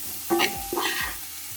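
Grated young carrot added to onion in a pan sizzles briefly in two short bursts of hissing and stirring, close and fairly quiet, with no voices.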